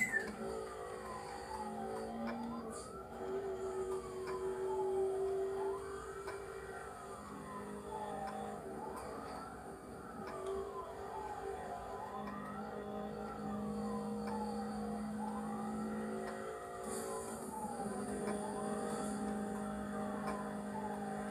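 Police sirens from the racing video game Need for Speed Hot Pursuit, a steady wailing siren that sweeps up and down over and over above a constant engine drone, continuous and moderately loud with no voices.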